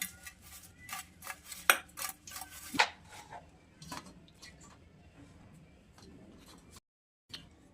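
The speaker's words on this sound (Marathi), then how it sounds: "मीठ टाकून टॉस करून घ्यायचं का असं हलवून घ्यायचं" Raw potato slices are tossed with salt in a bowl for potato bhaji, giving a series of clattering, scraping knocks and rubs against the bowl, loud at first and then quieter and sparser.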